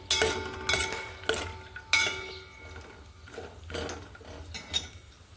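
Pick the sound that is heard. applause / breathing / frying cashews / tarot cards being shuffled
frying cashews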